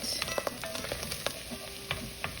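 Chickpea stew ingredients fry and sizzle in a pan as browned bits start sticking to the bottom, a steady close hiss broken by small pops and stirring clicks, no talking.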